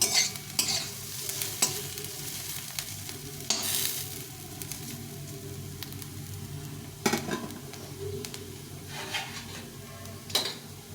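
Bottle gourd peel with potato and onion sizzles gently in a pan while a spoon stirs and scrapes, with sharp clinks of metal against the pan every few seconds.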